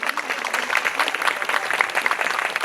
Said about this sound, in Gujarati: આપણે આ સન્માનને જોરદાર તાળીઓથી